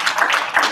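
Brief burst of audience applause at a tech meetup on OpenStack Keystone, a short patter of hand claps from a small crowd.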